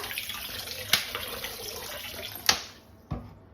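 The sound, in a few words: washing tomatoes in water with distilled vinegar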